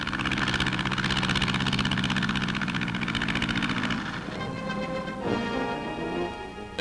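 A 130-horsepower engine on a wingless airplane roars steadily at full power during takeoff, a loud continuous drone that shifts in tone partway through, with no talking.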